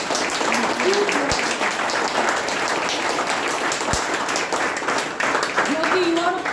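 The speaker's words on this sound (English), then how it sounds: "Can we have a huge round of applause?" A large crowd claps and cheers in sustained, loud applause, with voices rising over the clapping.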